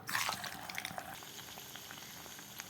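Vadai frying in hot oil in a kadai: a soft, steady bubbling hiss that swells loudest in the first moments as the batter goes in, then settles into a quieter, even crackle with small pops.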